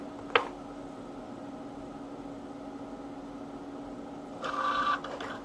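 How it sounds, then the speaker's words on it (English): A Cricut Joy cutting machine drawing with a gel pen gives a steady, low mechanical whir throughout, with a brief click near the start and a louder, higher-pitched motor whine near the end. "And now it will start drawing."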